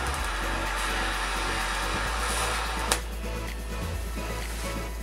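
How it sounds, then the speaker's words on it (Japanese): Arc welding steel with a welding rod while building a seat rail for a Zephyr 750-style ZR-7S motorcycle, a steady loud crackling hiss with a sharp pop near the middle. "溶けている鉄の先端に溶接棒をしっかりと溶かし込みます。"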